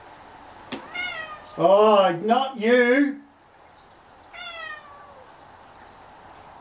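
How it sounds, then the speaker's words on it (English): A house cat meows close up in several drawn-out, wavering calls, with a brief spoken remark and a later, fainter meow after a pause. "Bloody cats. Actually, he's a pretty good cat."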